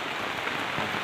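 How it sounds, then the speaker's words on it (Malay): Rain falling steadily on a rural field in West Sumatra, a dense close hiss of drops that stays even and loud throughout, with no talk. "Oh hari hujan."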